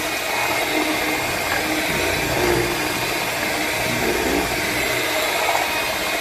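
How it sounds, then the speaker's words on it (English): An electric hand mixer whips koki beans batter with a loud, steady motor whir that holds an even drone throughout, close up and with no talking. "that's the same thing as whipping it with hand mixer"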